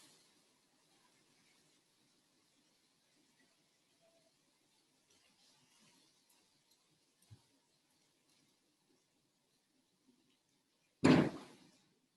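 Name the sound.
closing doors during a rainstorm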